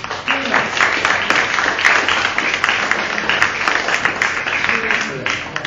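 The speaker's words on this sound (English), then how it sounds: "How about a round of applause for these guys?" Audience applause at a family reunion gathering, a dense, steady wash of clapping holding for several seconds, with voices mixed in underneath.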